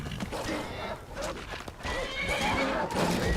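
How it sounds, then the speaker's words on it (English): A horse in the video game Skyrim neighs and whinnies several times over clip-clopping hooves, loud and close, against busy game sounds. "Can I steal the horse?"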